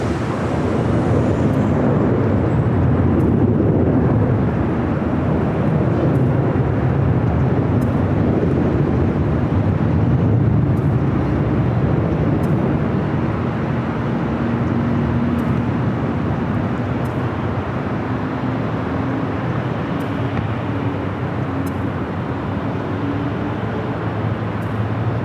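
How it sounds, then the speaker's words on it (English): An Air Canada Express CRJ 900ER jet arriving from Vancouver at LAX makes a loud, sustained engine roar that slowly shifts in pitch as it passes, with a faint whine running underneath. "Air Canada Express Flight 7574 coming up from Vancouver, CRJ 900ER up next."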